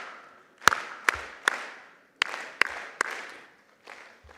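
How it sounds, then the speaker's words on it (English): An audience at a graduation ceremony gives the chief guest a few sharp rounds of clapping in short groups, with the sharp claps ringing out in a reverberant hall. "let's give 3 hearty claps for our chief guest"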